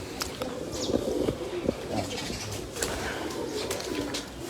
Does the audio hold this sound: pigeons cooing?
yes